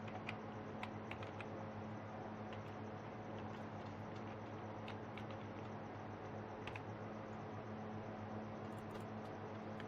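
Typing on a computer keyboard, a steady run of light, quick key clicks, close and soft over a low constant hum.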